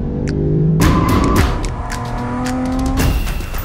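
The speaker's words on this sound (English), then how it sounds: "Michael Armand is going to take our fleet around the treacherous West Circuit here at the Bend Motorsport Park." Performance cars lap the West Circuit at The Bend Motorsport Park, engines roaring loud and close as they rev, shift and sweep past one after another, with brief tyre squeal amid the constant racing noise.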